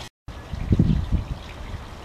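A garden pond waterfall runs with filters, giving a soft trickling, gurgling flow after a brief silent gap, fairly faint and steady.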